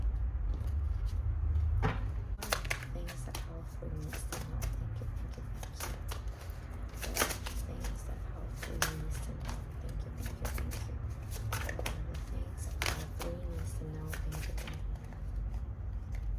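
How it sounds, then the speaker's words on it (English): A deck of tarot cards is shuffled repeatedly, a series of crisp riffling snaps and soft slaps close by, continuing steadily without speech. "Let me shuffle the deck for you now."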